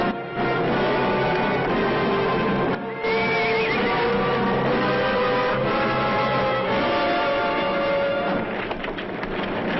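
A horse neighs loudly in a long, wavering whinny, with hoofbeats and rustling in an outdoor scene from a 1957 Western film.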